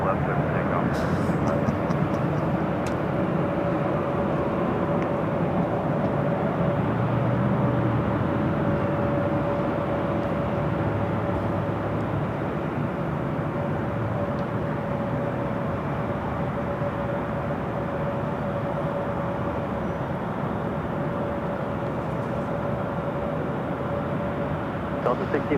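An airliner takes off from runway 24 left at LAX, a continuous loud roar with a steady engine whine that holds across the whole stretch without letup.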